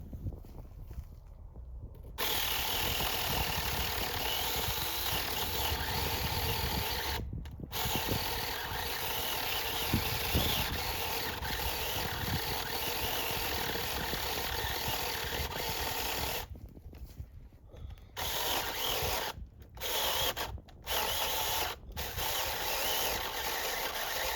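A small, cheap battery-powered mini chainsaw runs steadily at high revs, cutting wood with brief pauses and drops near the start and toward the end.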